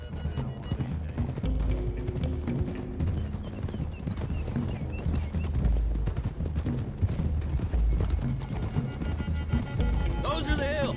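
Horses galloping in Red Dead Redemption 2, a dense rumble of hooves running under music and game sounds, steady and fairly loud across the whole stretch, with a brief higher tone near the end.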